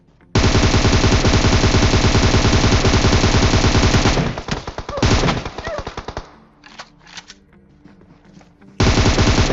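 Gunfire rings out in a shooter video game. Loud, rapid, continuous bursts give way to broken, scattered shots, then the heavy fire resumes at the end.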